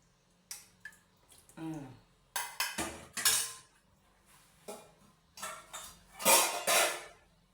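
Metal utensils clink and scrape against dishes as sambar is ladled onto venpongal, in several close, bright bursts separated by short pauses, with no talking.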